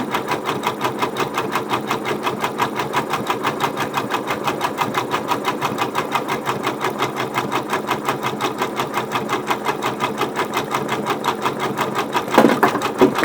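A sewing machine stitching a blanket stitch around cut applique runs in a steady, fast, even mechanical rhythm close by, with a brief clatter near the end.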